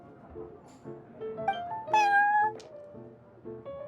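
Prince, a cat in Genshin Impact at the Cat's Tail tavern, gives a few distinct meows, rising into one louder drawn-out call in the middle. They are clear and close, over a soft melodic backdrop.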